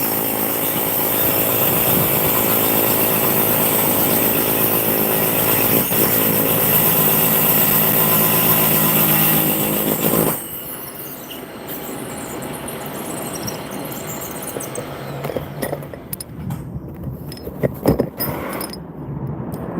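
Milwaukee power drill boring into a concrete foundation to set anchors, a loud continuous grinding whine for about ten seconds, then a quieter rumbling stretch with scattered knocks and clatter.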